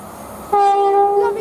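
A train passes Kings Sutton station on the Chiltern Main Line, a Manchester Piccadilly to Bournemouth service, sounding a loud, steady two-tone horn close by over the rumble of the rails.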